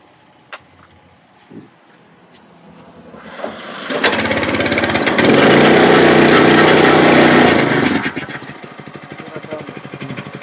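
A weeder rotavator engine is started after a few quiet knocks, then roars loudly and closely at a steady, rattling pace before easing slightly while it keeps running.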